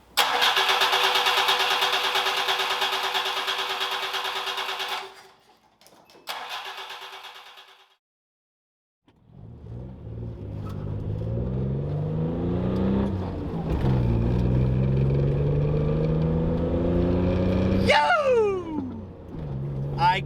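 A Subaru Justy's engine cranks over and catches, then settles into a steady mid-pitched idle with a few rising revs; a loud broadband whir precedes it, and a voice speaks briefly.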